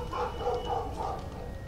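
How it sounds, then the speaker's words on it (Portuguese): Dogs bark excitedly at a passing garbage truck, several muffled, somewhat distant woofs repeating in a quick rhythm over a steady low background hum. "Os cachorros tá louco por causa do caminhão do lixo."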